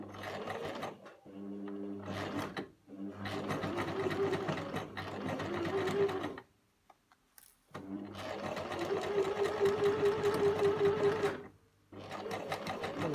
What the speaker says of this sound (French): Puis piquez depuis le repère jusqu'en bas.